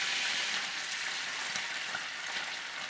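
Onion fries in rendered beef fat, a steady close crackle and sizzle with faint irregular pops throughout, at moderate level and free of speech.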